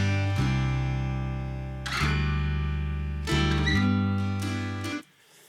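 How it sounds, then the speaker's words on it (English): Synth bass line from a Logic Pro X preset with added effects, a few deep sustained notes with attack bursts, low and warm, fading out at the end, alone without talking. "So I played this bass in. It's a Logic preset,"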